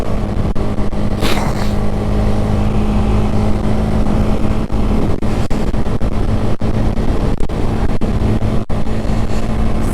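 A red Honda Grom motorcycle runs at full throttle down a hill, its loud, steady engine drone mixed with wind buffeting and occasional thumps.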